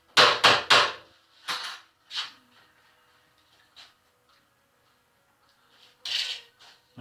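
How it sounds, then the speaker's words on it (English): Scraping dross off molten solder in a dip soldering pot, heard as a quick run of three sharp scraping clacks, then a few scattered lighter scrapes and knocks, and a final brief burst of scraping, all close with no talk. "Now I'm just going to scrape off some of the dross."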